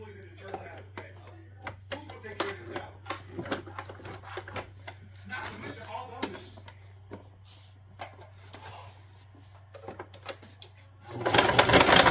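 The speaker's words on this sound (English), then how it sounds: "And then we're going to go ahead and give it a good top stitch." A domestic sewing machine top stitches fabric, running in short rhythmic clattering bursts with brief pauses over a steady low motor hum, then a louder, denser burst near the end.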